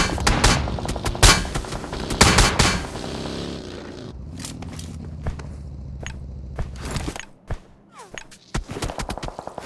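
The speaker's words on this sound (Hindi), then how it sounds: "उतने मेरे को शॉट आ जाते हैं एक बंदे के" Gunfire in a battle royale video game, with rapid bursts and single sharp shots near the start, then scattered cracks and footsteps over a droning engine hum.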